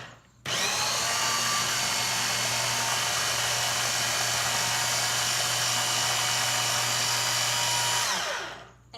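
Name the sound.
Ninja blender running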